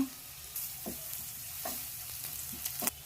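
Thick-cut onion fries gently in a pan, a soft steady sizzle broken by several scraping stirs of a spoon at irregular intervals.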